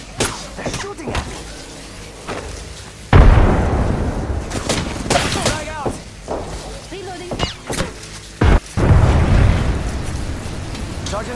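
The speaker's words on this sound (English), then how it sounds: "They're shooting at me." Gunfire during an Apex Legends match, with sharp loud shots and booming impacts in bursts and single cracks, some close and some farther off, layered over game effects.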